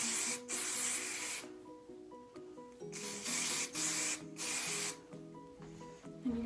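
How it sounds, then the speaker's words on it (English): Texture hair spray hisses from an aerosol can in several broad bursts of roughly a second each, close and fairly loud, with faint background music running underneath. "So to spray my texture spray, I spray downward."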